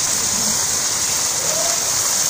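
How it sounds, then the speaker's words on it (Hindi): Chicken karahi with spices frying in a pan, a dense, even sizzle and crackle that stays loud and close throughout. "तो बस इसको हम अब फ्राई करेंगे जब तक इसका पानी खुशक हो जाए"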